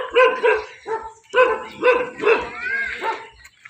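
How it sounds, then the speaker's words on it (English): A dog on a country lane by a small farm with goats barks in a run of sharp, fairly close woofs and yips spread across several seconds, with no talking. "The dog looks like it's barking at me, maybe."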